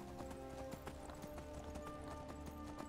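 A horse walking in Skyrim, its hooves clip-clopping in a steady, even rhythm, quiet and close, with a soft ambient bed behind.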